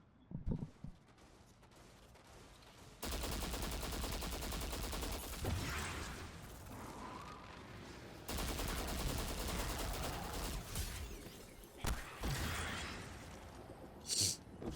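Gunfire and grenade blasts from a firefight in the video game Destiny 2, heard as sustained rapid bursts in two long stretches with a few sharp booming hits near the end, fairly quiet overall.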